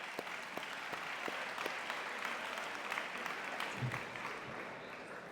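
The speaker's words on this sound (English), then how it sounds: "Give him a round of applause" A room full of people applauds at a high school athletic awards ceremony, steady clapping that carries on throughout and eases off slightly toward the end.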